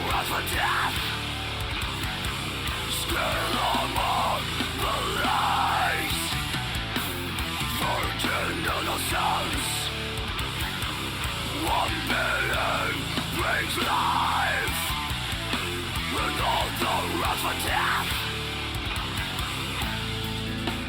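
Harsh female metal screams from a song rise and fall in bursts over dense, loud band instrumentation, with no quiet gaps across the passage.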